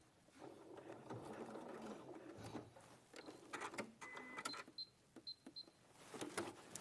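A sewing machine runs a short back stitch in bursts, with quick mechanical whirs and clicks stopping and starting, fairly close and moderately quiet, with no voices.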